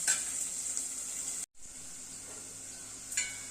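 Carrots and green beans frying in oil in a pan give a steady, faint hiss, broken by a brief gap and a small flare of crackling near the end.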